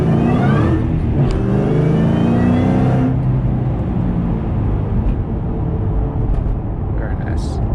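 Ford Shelby GT500 engine with a 2.8 pulley running, a loud steady engine drone and whir heard from nearby, with a rising whine early on that then settles, and a voice talking over it.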